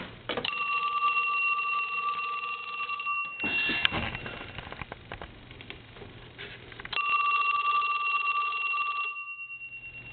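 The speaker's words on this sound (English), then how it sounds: "I'm going to ring the telephone" An old Western Electric Snoopy telephone's bell rings in two long electric trills separated by a pause, close and fairly loud.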